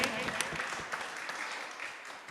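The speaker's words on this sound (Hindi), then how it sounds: "के सम्मान में जोरदार तालियां बजाएंगे" A temple audience at an evening aarti gathering claps loudly in a brief burst of applause that fades slightly toward the end.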